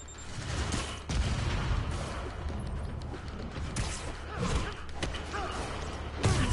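Rocket launcher fire and explosions in a Spider-Man video game, a dense run of booms and heavy thuds with sharp blasts at intervals over a constant roar of game noise.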